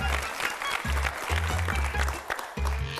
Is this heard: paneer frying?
no